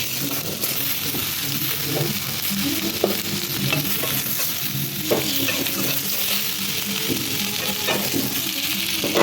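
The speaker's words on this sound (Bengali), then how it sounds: "আলুটা লাল লাল করে ভাজা হয়ে গেছে" Potatoes fry with a constant crackling sizzle in a pan, stirred repeatedly with scraping clinks, close and steady throughout.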